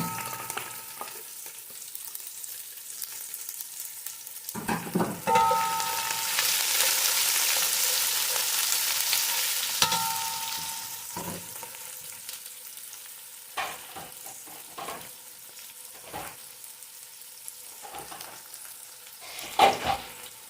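Onion and chili sautéing in a pan, a steady close sizzle and hiss that swells loudly mid-clip as the ingredients hit the hot oil, with intermittent stirring clatters and scrapes of the utensil throughout.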